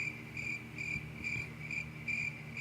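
Crickets chirp in a steady pulsing rhythm, several evenly spaced high trills repeating about twice a second, faint and alone against a low background hum.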